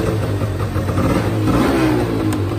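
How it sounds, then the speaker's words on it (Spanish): A Honda Scoopy SH75 scooter with a weak battery has its small engine revved, giving a steady, loud, close buzzing drone that swells slightly as the throttle opens, with no talking over it. "Hay que revolucionar la moto y que coja intensidad."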